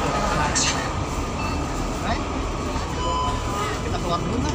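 Train pulling into Surabaya Gubeng station in Indonesia: a steady rumbling roar of rail cars with faint squeals and clanks, a public address voice speaking over it.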